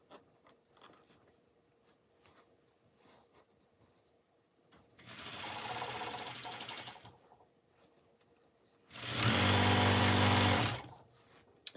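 A sewing machine stitches fabric in two separate bursts of steady, whirring mechanical stitching, each lasting about two seconds, with quiet pauses around them.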